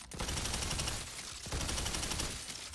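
Rapid automatic gunfire from a fast-shooting legendary weapon in the video game Tiny Tina's Wonderlands, a dense, continuous loud rattle of shots lasting almost three seconds with a brief dip midway.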